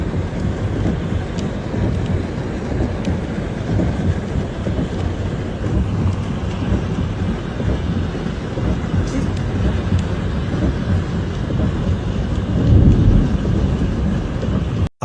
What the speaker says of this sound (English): A powerful and slow-moving storm system has unleashed chaos across Houston, Texas, delivering torrential rainfall